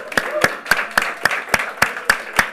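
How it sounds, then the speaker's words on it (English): Steady rhythmic clapping, about ten even claps, loud and close, with faint voices in the background. "give this team what they're, code breaker makers, a round of applause."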